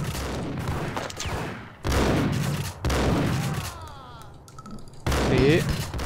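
Gunfire in the Max Payne video game, several heavy bursts of shots arriving in clustered volleys with short gaps between, loud and close, mixed with game effects and someone speaking.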